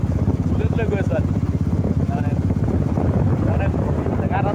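A motorbike carries a rider along a road, its engine droning steadily with a pulsing low rumble and wind buffeting the microphone, while someone talks over the ride almost throughout.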